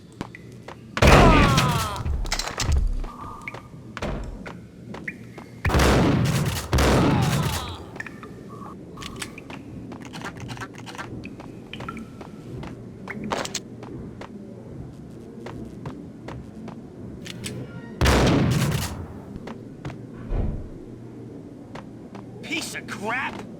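A shootout in the Max Payne video game, with loud bursts of gunfire and heavy impacts coming in clusters, mixed with shouted voices and quieter stretches between volleys.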